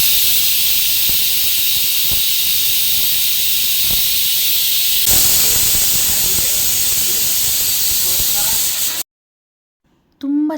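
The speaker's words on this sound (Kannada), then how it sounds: "ಸಾಂಬಾರು 2 ವಿಷಲ್ ಬಂದರೆ ಸಾಕು" A pressure cooker cooking sambar on the stove lets out a loud, continuous steam whistle close by. The sharp hiss holds for about nine seconds, then cuts off into near silence.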